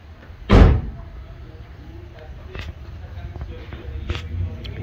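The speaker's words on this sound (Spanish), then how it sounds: "Vamos a cerrar la puerta." A single solid thud as the door of a 2007 Mitsubishi Eclipse GT with a 3.8-litre V6 is shut, close and loud, followed by quieter handling sounds and faint background noise.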